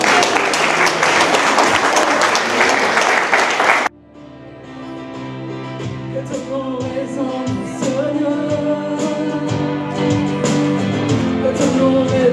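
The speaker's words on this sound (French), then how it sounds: "On peut applaudir Dieu encore très fort." Church congregation applauding loudly, a dense burst of clapping that cuts off abruptly to music playing.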